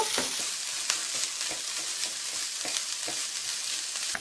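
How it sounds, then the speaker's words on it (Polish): Steady sizzling of garlic frying briefly in a pan, with occasional light stirring scrapes, close and continuous. "dodam teraz czosnek. króciutko razem przesmażę"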